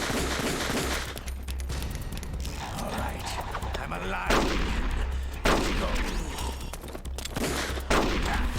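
Video game gunfire, rapid repeated shots and bursts in dense, loud volleys across the whole stretch, with someone talking over parts of it.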